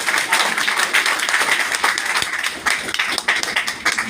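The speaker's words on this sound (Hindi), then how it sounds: "ताली तो कम से कम बजाइए।" An audience at a talk applauds, a dense, steady wash of many hands clapping together, loud and close, sustained throughout with no voices over it.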